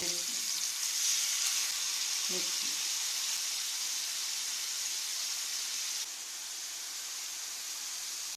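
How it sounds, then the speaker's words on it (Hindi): Chicken tikka pieces threaded on sticks fry in cooking oil with a steady, close, bright sizzle and hiss that continues throughout, with a brief low murmur early on. "अभी हम इसको फ्राई करने वाले। ऑयल डाल दिया है खाने वाला, टिक्के रखने वाले।"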